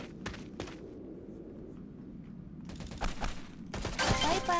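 Gunfire in the online shooter Sudden Attack, with sharp shot bursts and rapid volleys growing denser toward the end, heard under players talking.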